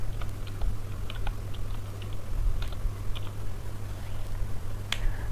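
Clicky keystrokes on a computer keyboard as a sudo docker command is typed to start a container, sporadic taps and short bursts over a steady low hum, close and fairly quiet.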